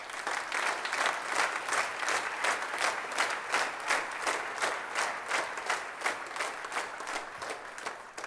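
Audience at a South Dakota Middle School All-State Band concert in Huron High School claps steadily and warmly, a dense, sustained round of applause from a sizable crowd filling the hall.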